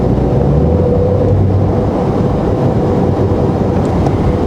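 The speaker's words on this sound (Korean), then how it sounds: "가속력이 일어날 때 엔진 소리가 먼저 커집니다." Steady low engine rumble from inside a moving Porsche 911 Carrera S (992) in slow traffic, loud and continuous with road noise, no clear rev peaks.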